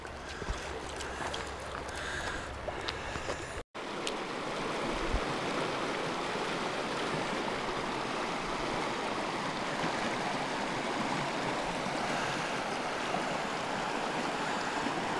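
A mountain stream in the Gemmi area, swollen with snowmelt in hot weather, roars steadily as a dense, close, unbroken wash of flowing water, after a brief cut near the start, no talking.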